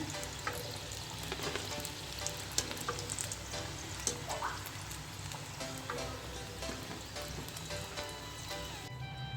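Aloo gobhi samosas deep-frying in oil, a dense steady bubbling sizzle that runs throughout with faint crackles on top, close and even.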